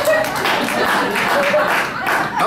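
Women in a stand-up comedy club audience clapping, a dense, continuous patter of hand claps filling the room for a couple of seconds, fairly loud and close, with a few voices mixed in.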